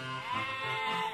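A nanny goat bleats in one long, loud, wavering cry that fills the whole moment, alone with no voices, in a Thai folk tale about a goat straying from its herd at dusk.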